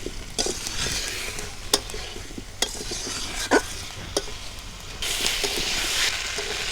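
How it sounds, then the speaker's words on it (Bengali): Fried potatoes and drumsticks are stir-fried in a mustard spice paste, with a steady sizzle broken by repeated scraping and clattering strokes of a spatula against the pan, loudest in the last couple of seconds. "দিয়ে এবার আমি একটু নেড়ে ছেড়ে মশলার সাথে ভালো করে কষায় নেবো।"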